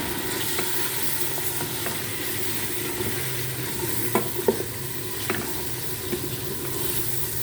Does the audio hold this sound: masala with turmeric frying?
yes